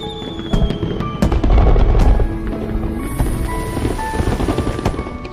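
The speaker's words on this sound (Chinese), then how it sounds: "好漂亮，居然有烟花" Fireworks burst outside a hotel window in a rapid series of sharp cracks and pops, densest early on and then scattering into lighter, more distant bangs.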